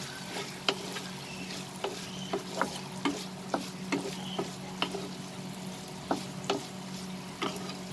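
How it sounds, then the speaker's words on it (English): Chili garlic prawns fry over a high flame with a continuous soft sizzle, and a spatula scrapes and taps the pan at a steady, irregular pace throughout, close and fairly quiet, with no talking. "So we'll fry this for 1 more minute over high flame"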